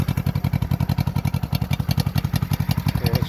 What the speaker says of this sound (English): So it starts easy with the either the kick or the electric start. Fires right up. Holds a nice idle.